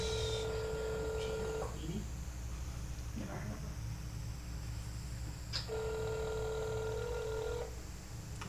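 Telephone ringing on a phone call to the Internal Revenue Service, two long electronic ring tones separated by a pause over a steady hissy line, with faint voices.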